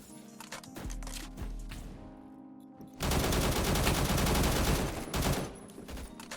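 Automatic fire from an AK-74 in the video game Phantom Forces comes in two loud sustained bursts separated by a brief pause.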